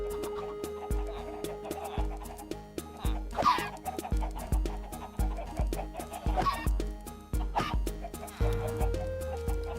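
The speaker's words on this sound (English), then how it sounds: "We have too many chickens." Chickens in a Minecraft modpack world cluck repeatedly in quick overlapping bursts, close and fairly loud over a rhythmic backing of game music.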